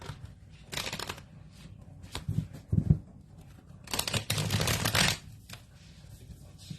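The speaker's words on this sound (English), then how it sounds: "I'm going to go ahead and shuffle my cards while we talk" A deck of tarot cards is shuffled up close in several quick riffling bursts, with short pauses between them.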